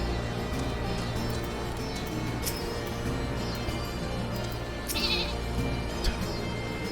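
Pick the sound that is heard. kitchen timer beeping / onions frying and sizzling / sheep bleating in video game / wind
sheep bleating in video game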